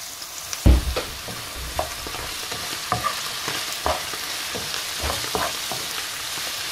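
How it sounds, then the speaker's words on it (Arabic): Zucchini sizzling and frying in hot oil with garlic, stirred in the pan: steady close-up crackle with scattered spoon scrapes and a louder clatter near the start. No one speaks. "غادي ندير الزيت باش غادي نشحروا هادشي، وغادي ندير الثومه غبره ولا طريه، غنشحرهم مزيان"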